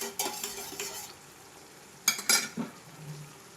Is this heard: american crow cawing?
no